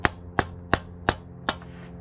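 Hammer striking a socket to drive a seal into the engine of a 1996 Mitsubishi Montero during a head gasket and timing belt job, five sharp metallic taps at an even rhythm, close and clear.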